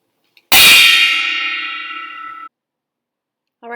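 A cymbal struck once rings out loudly and shimmers for about two seconds before cutting off, with a faint start of another hit at the end.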